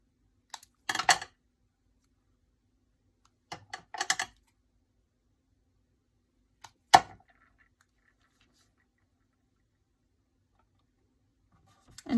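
Paper is cut for a scrapbook card in a few short, separate snips and crisp rustles, spaced seconds apart with silence between them, close by and fairly quiet.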